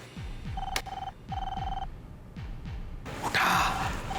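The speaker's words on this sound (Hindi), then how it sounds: "घंटी बज रही है।" A telephone rings near Goregaon station, repeated electronic trilling bursts in a steady rhythm with short gaps, followed by a rushing noise at the end.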